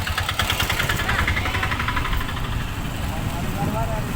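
Motorcycle engine running steadily on a forest road toward a river, a constant close mid-pitched drone with faint voices under it.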